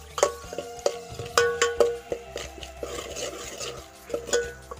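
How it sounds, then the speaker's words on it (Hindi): A spoon scraping and stirring spices and mutton in a cooking pot for baingan aloo mutton salan, with repeated metallic clinks and rasping strokes in an uneven rhythm, close and moderately loud. "अच्छे से मिक्स करना है।"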